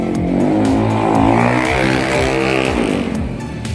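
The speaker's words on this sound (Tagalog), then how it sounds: "Hingay ng motor na yan ah." A motorcycle engine revs loud and close on a road near the NLEX-SLEX connector, its pitch rising and falling as it accelerates. Other traffic rumbles beneath it, and no one speaks.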